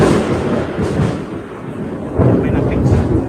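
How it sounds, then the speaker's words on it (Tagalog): Thunder rolls in a rumbling, low swell, loud and fairly near, with a second surge building toward the end, accompanied by faint rain-like hiss. "Narinig niyo ba yung kulog at kidlat?"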